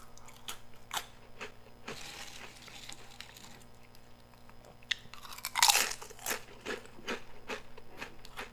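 Crunching and chewing of salty, cheesy American snack food, close and fairly loud, in repeated bursts of bites and chews with a particularly sharp crunch flurry in the middle.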